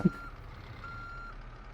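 Reversing beeps from a tow truck parked near a wrongly parked semi-truck, a steady faint alarm tone held at low level over engine rumble with no talk.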